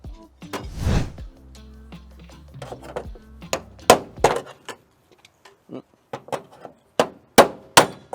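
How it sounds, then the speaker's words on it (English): Metal electrical knockout being popped out of a Generac/Enphase hybrid solar system component, giving sharp metallic clangs and taps, with a louder thump early, then a series of crisp knocks spaced apart. "pop that out like that. The knockout for where your electrical wire is going to come in the back."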